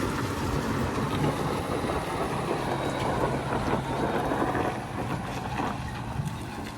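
A tractor and trailer tipping a load of grass silage on a farm, a steady rumbling engine and machinery drone with a rushing, scraping texture, fairly close and continuous throughout, with no talk.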